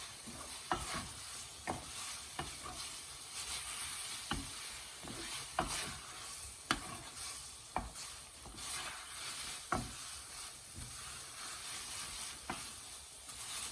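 Chilli chowmein is stirred and tossed in a hot pan, with a steady sizzle under a dozen or so sharp, regular scrapes and clanks of the utensil against the pan.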